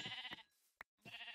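Two bleats from a Minecraft sheep, each one loud and close, separated by a short silence broken by a single sharp click.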